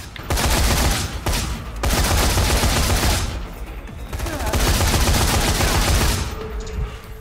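Dense, loud gunfire from Dead Rising 3 rattles almost continuously in heavy volleys, with a couple of brief lulls between bursts.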